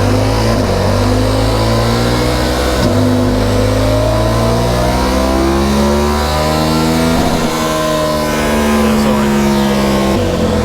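A 2021/22 KTM 1290 Super Adventure S motorcycle with an ECU remap, revving hard on a dyno indoors; loud close engine roar sweeps up through the gears in repeated rising runs with brief drops between shifts.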